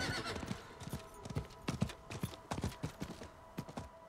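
Horse hooves clip-clopping at a steady trot in the video game Diablo 4, a rhythmic run of close, moderately loud hoof strikes with faint ambient game sound underneath.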